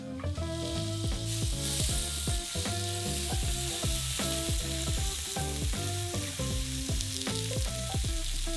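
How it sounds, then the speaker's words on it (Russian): Steady loud sizzling of lamb frying on a hot electric grill, continuous crackle with a repeating rhythmic pattern running throughout. "Можно выкладывать мясо на гриль."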